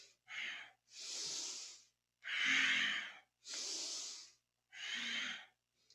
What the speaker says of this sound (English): Use a deep breath, breathing through the nose.